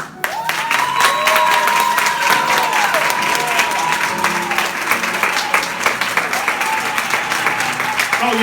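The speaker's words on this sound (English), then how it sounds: "Give it a round of applause." An audience at a bookstore gala breaks into loud, sustained applause with scattered cheers and whoops, the dense clapping carrying steadily throughout.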